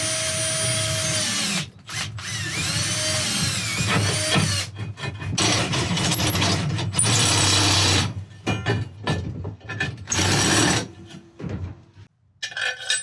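A power drill bores bolt holes through cut steel angles for an ice-fishing e-bike ski bracket, whining loudly in long sustained bursts broken by brief pauses, near and alone.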